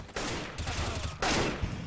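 Rapid bursts of gunfire in a shooter video game, two dense volleys of shots separated by a brief pause, loud and close with no talking.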